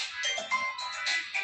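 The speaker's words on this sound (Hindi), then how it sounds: "किसका फोन है" A phone ringtone plays a bright, warbling electronic melody, fairly close and steady throughout the short stretch with no voices over it.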